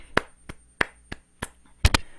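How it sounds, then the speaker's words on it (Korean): A few separate claps from a small group in a classroom, landing unevenly as sharp, fairly close hits, ending with a quick double clap. "여러분 박수 주세요"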